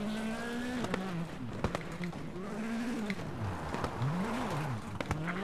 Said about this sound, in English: Nice little handbrake turn there.